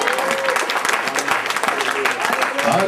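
A church congregation claps and cheers to acclaim the king during a French-language worship service, a dense, continuous wash of applause with raised voices mixed through it.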